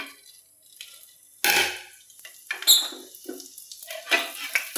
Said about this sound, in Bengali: ওই তেলেতেই ফোড়ন দেব জিরে শুকনো লঙ্কা রসুন